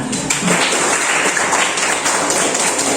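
Classroom applause after a student group presentation: a brief burst of many hands clapping close by, dense and steady for a few seconds, with faint room chatter underneath.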